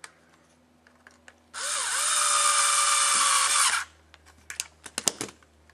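A power drill fitted with a nut driver bit whirs loudly for about two seconds during an RC crawler build, with faint clicks and small parts being handled before and after.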